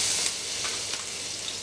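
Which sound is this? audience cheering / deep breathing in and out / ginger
ginger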